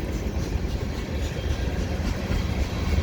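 A CN freight train rolls slowly through Dorval with a steady low rumble and faint wheel noise, continuous and fairly close, with no talking.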